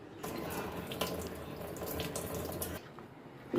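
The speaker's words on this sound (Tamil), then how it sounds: "ஒரு நிமிஷம் கழிச்சிட்டு நீங்கள் வடிகட்டிக்கிங்க" Water drains and trickles steadily from soaked millet vermicelli in a kitchen, a close, continuous splashing flow for a few seconds that eases off near the end, with no talking.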